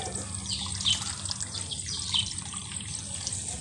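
Water being drained off freshly washed rice, a steady close splashing trickle with a couple of brief brighter splashes, no voices.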